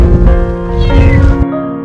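A cat trapped inside a drain gives a loud, drawn-out, pleading meow that rises and then falls, close and echoing, before cutting off abruptly.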